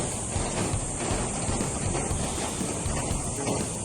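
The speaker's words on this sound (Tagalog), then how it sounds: "Naririnig niyo ba yung tunog ng yero pag mainit?" A metal roof sheet heated by the sun gives off a dense, continuous crackle and patter like rain, heard from indoors with no insulation, with steady broadband noise throughout.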